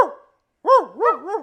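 A man imitates a dog's bark aimed at a real dog, giving a short vocal burst, a pause, then three loud, swooping bark-like howls close to the microphone.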